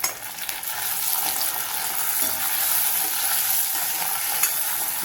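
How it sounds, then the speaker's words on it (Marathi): Small Bombay duck fish sauté with onions and tomato in a pan, giving a steady close sizzle with soft stirring scrapes throughout, no voices. "मस्त मध्ये आता याला कांद्यामध्ये परतून घेते"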